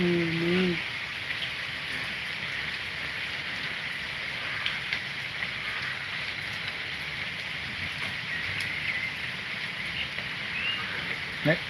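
Steady rain falling in a continuous broadband hiss, with a brief voice at the very start and a faint low hum underneath.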